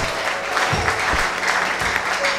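A church congregation claps together, a steady patter of applause at moderate distance that fills the space throughout.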